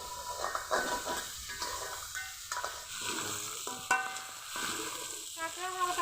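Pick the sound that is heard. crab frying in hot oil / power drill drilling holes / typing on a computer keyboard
crab frying in hot oil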